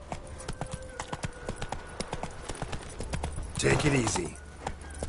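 Horse hooves clip-clop at a steady walking rhythm in a fantasy video game's city, close and clear, while a voice talks over the hoofbeats and a brief throaty horse sound rises near the end.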